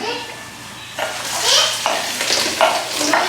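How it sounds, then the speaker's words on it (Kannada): Onions sizzle in hot oil for a puffed-rice puri oggarane tempering, with stirring strokes and crackling up close and faint voices in the background. "ಇದು ಚೆನ್ನಾಗಿ ಫ್ರೈ ಆಗಬೇಕು ಈರುಳ್ಳಿ ಎಲ್ಲ"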